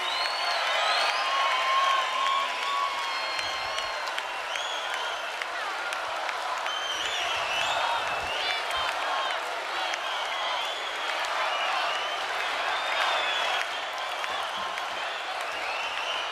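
Crowd applause and cheering at a live concert for The Dancing Queens, a sustained roar of clapping and shouts over lingering music, loud and continuous.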